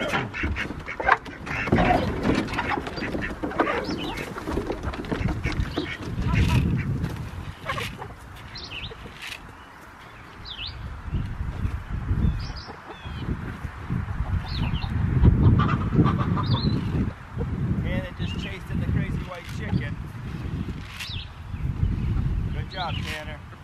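Farmyard chickens cluck and squawk in busy, irregular bursts, close and fairly loud, mixed with duck-like quacks while a person talks intermittently over them.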